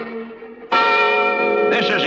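The Liberty Bell rings with a sustained, reverberant metallic tone, a softer strike first, then a louder one that hangs and swells with echo.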